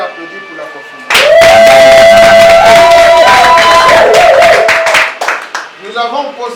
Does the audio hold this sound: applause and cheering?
yes